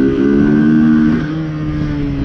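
A Kawasaki Z125 motorcycle engine revs hard under throttle for a drag run, a loud, close, buzzing whine that holds steady and then shifts pitch slightly as it pulls.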